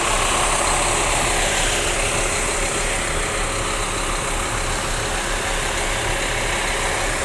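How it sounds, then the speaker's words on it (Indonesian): A Scania K310 double-decker coach engine idles with a steady, even diesel rumble close by, and gusty wind noise runs through the whole stretch. "Oh, suara mesinnya gahar banget ya."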